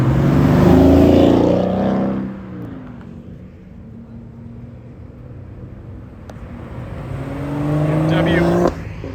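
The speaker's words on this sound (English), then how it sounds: "over here we can see a nice orange Corvette is leaving" An orange Corvette pulls away from a car show, its engine loud and near at first, then fading as it drives off, before another car revs up close; a person talks over it.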